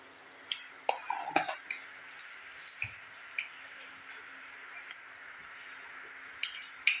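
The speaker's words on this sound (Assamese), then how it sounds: "এয়া সৰিয়হকেইটা ফুটিব লৈছে।" Mustard seeds sputter in hot mustard oil in a wok: scattered sharp pops and crackles, a few clustered together then sparser, fairly quiet against a low background hiss.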